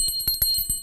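A small bell from a bell collection rings in quick, bright strikes, about five rapid tings in under a second, close and clear with no talking.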